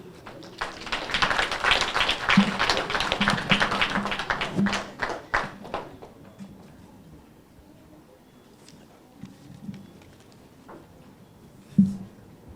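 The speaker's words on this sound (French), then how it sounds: "nous faisons place au frère Jean-Claude Volsi dans le message de la parole de Dieu sous vos applaudissements, s'il vous plaît." A congregation applauding at a church group celebration, with a burst of many hands clapping that holds for several seconds and then thins out into scattered claps and quiet room sound, plus a few isolated taps.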